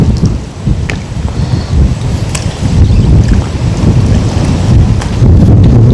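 Strong wind roars at a reservoir during fishing, a loud, constant buffeting rumble on the microphone with gusts rising and falling throughout, and no one speaking.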